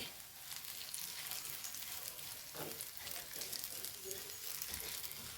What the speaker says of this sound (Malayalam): ഒന്ന് വറുത്തെടുക്കട്ടെ നമ്മൾ നാളികേരം മൂപ്പിക്കണേ